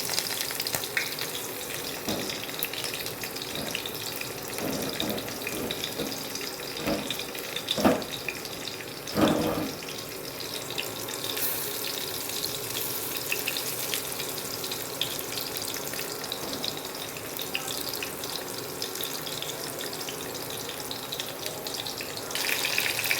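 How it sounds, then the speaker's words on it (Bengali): Batter-coated lote fish pakoras deep-fry in hot oil with a steady, loud, hissing sizzle throughout, broken by a few brief clatters and bubbling bursts as pieces are dropped in and moved. "ভালো করে ভেজে নিতে হবে যেন পুরো ব্যাটারটা মাছের গায়ে লাগে"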